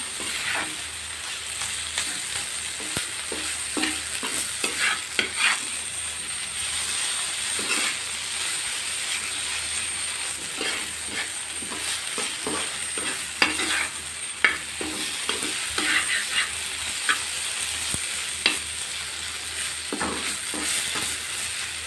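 Loitta (Bombay duck) fish bhuna frying and being stirred in a pan, a steady close sizzle with repeated scraping and clattering strokes throughout, no talking.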